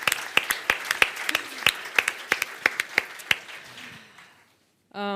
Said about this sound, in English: if you are happy, then please let's applaud